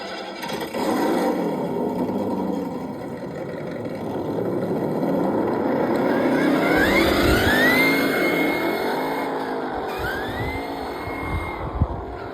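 A custom remote-control 4x4 with a brushless motor, set in first gear in 4-low, accelerates with a loud steady whine that rises and sweeps in pitch as it speeds up, then eases off near the end.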